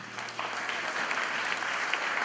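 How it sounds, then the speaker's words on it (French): Church congregation applauding in a dense, continuous wash of clapping, moderately loud and close, with faint voices beneath. "Au nom de Jésus de Nazareth, on acclame le Seigneur de gloire"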